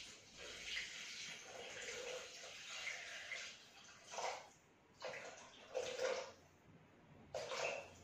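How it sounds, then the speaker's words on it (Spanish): Water, 350 grams of it, poured into a Thermomix bowl while making a sofrito-based roquefort macaroni, rushing in broad spurts that stop and restart several times, fairly close with no talk over it. "Ahora echamos el agua, que son 350 gramos de agua."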